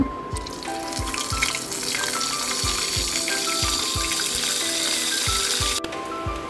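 Dry lactarius mushrooms sizzle in hot oil in a pan, a steady close frying hiss broken by regular soft pops and spatters, with no voices over it.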